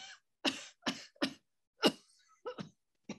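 A series of sharp, harsh coughs from a woman in quick bursts, close and loud, with short pauses between them and no talking.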